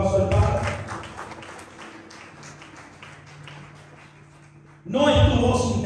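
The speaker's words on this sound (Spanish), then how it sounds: "Voy a dar un aplauso al Padre." A church congregation applauding, with a burst of clapping at the start, a quieter stretch under a steady tone, then loud clapping swelling again near the end.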